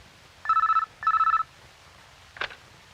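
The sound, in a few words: telephone ringing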